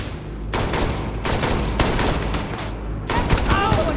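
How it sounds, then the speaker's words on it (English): Sustained bursts of gunfire in the space game Starfield, loud, dense and rapid, with short lulls between volleys of cover fire. "Lay down some cover fire!"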